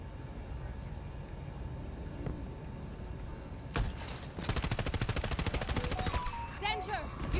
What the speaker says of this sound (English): I just keep getting you close to shoot them with that shitty machine gun